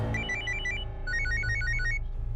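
A mobile phone ringtone for an incoming call, a quick electronic melody played in two bright bursts over a low background hum, with no talking.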